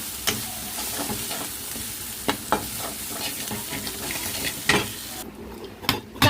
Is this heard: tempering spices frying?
yes